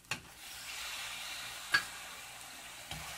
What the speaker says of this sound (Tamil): இப்போ இந்த தக்காளி நல்லா குலைவாக வதங்கிடட்டும்.